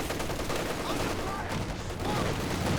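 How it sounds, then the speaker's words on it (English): An incendiary bombing run in the World War II strategy game Company of Heroes 2: a continuous loud roar of explosions and crackling gunfire, dense and steady throughout, with voices talking underneath. "Good use of the incendiary bombing run."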